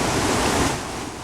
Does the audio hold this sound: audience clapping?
no